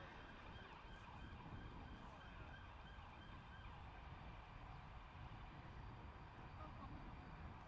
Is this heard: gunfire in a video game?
no